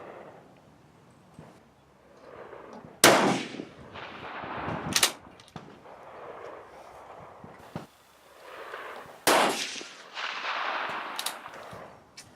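Swiss 1935 K31 rifle fired outdoors, two loud sharp gunshots several seconds apart, each with a rolling echo tail, amid wind and handling noise.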